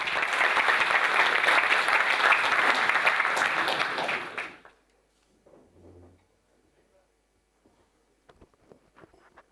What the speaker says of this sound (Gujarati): શ્રોતાઓને વિનંતી છે કે તેઓ તાળીઓથી વધાવી લે.